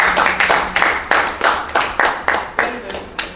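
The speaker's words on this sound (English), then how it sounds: "can we clap for Pwan" A steady, slow series of distinct hand claps at a business opportunity expo, about a dozen evenly spaced sharp claps with a little room echo, fairly close and loud.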